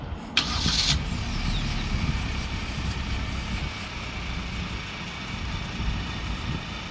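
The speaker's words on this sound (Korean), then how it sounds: "원격 시동이 걸렸고요." A 2024 Hyundai Porter 2 LPG LPI truck engine cranks over by remote start with a short sharp burst, then settles into a steady, fairly close idling rumble that holds to the end with no talking.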